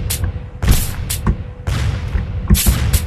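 Firecracker and explosive blasts in the physics game Happy Wheels: several loud, sharp bursts in quick succession, each a broadband crack with a low thump, separated by short gaps.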